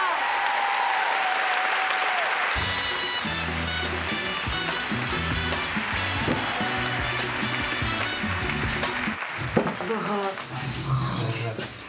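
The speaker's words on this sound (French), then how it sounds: "Faites-lui un tonnerre d'applaudissements. Plus fort, plus fort." A comedy festival crowd in Nantes claps and cheers loudly and continuously, with music playing underneath the applause.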